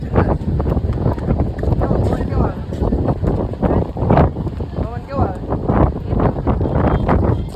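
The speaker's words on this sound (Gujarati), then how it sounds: "બહુ મસ્તીનો પવન આવે છે આ" Strong outdoor wind near the sea, on a flooded road, roars and buffets the microphone in loud, continuous low rumbling gusts.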